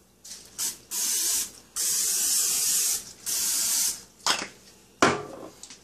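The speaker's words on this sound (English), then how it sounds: "So let's spray some oil in this puppy." Cooking oil sprayed from a can onto a waffle iron in several hissing bursts of about a second each, followed by two sharper short sprays, close and clear with no talking.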